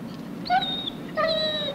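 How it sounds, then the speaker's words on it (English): A frightened German Shepherd guard dog whimpers in two high, thin whining cries, each with a slight wavering pitch, close by and fairly clear over a quiet background. "He's a German Shepherd, isn't he?"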